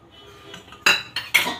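A metal spoon clinks sharply against a frying pan three times in quick succession as leftover ghee is added for besan barfi, after a quiet faint rustle.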